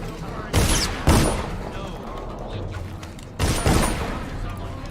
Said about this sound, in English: Oh, they're shooting at me from there.